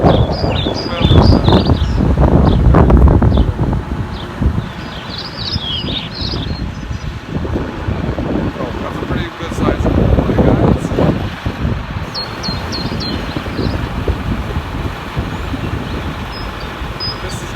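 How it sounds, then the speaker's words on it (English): Strong outdoor wind buffets the microphone at an excavation site, a loud, rumbling roar that surges and eases, with voices calling out over it and faint bird chirps. "Oh, look at the wind."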